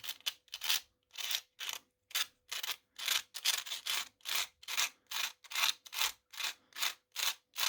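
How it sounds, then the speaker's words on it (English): Rhythmic back-and-forth scraping of sandpaper on thin litho sheet metal, about two strokes a second, close and raspy with brief pauses between strokes. "I like to use just sandpaper for sanding litho."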